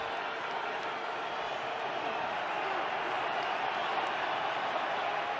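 A stadium crowd in Santa Clara during a 49ers vs Packers NFC divisional playoff game roars as a steady, broad wash of noise, with a broadcaster's voice over it.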